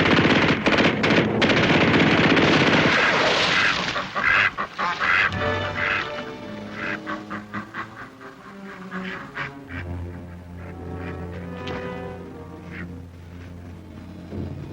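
Rapid, loud bursts of machine-gun and rifle fire fill the opening seconds of a wartime combat scene from the TV series Combat!, then the shooting thins out into scattered shots and tonal background sound.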